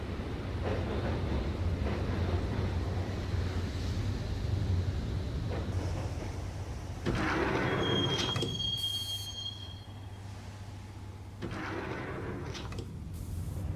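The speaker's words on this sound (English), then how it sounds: "the train doors had already shut behind me, and I was in for the ride" Train ride on a subway heading to Roscoe Street Station in the game Max Payne, a steady rumble of wheels on track with a low hum, then a sharp high metallic wheel squeal and continued rolling.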